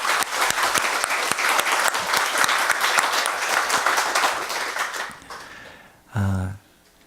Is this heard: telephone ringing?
no